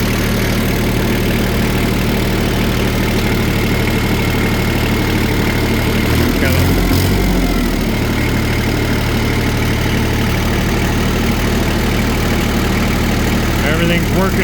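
Kioti LK3054 4WD diesel tractor with loader idling steadily after starting, a loud continuous low engine drone with a brief rise in rumble partway through, a voice talking over it.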